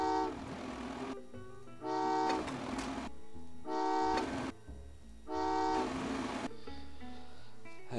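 Train whistle toots in the Train Valley 2 puzzle game, several bright harmonic blasts repeating at a steady pace over a continuous rumbling game soundtrack, with no talk.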